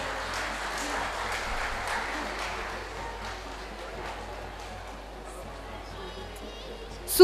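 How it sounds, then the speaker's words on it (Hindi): Applause from the audience at a Negi family get-together, steady clapping that slowly thins out and grows quieter toward the end, followed by a sudden loud burst in the final moment. "प्लीज तालियां कम नहीं होनी चाहिए।"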